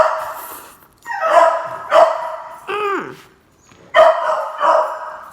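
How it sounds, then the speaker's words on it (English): A pet beagle barking excitedly at a squirrel indoors, several loud close barks and yips in irregular bursts with a whimpering howl between them. "I had to let the dog out because it was a squirrel and I have a beagle and she goes crazy"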